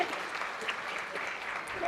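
Village women at a festive friendship gathering clap together in a dense, continuous burst that stays loud and even for a couple of seconds, with no clear voices on top.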